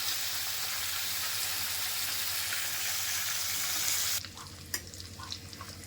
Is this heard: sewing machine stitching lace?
no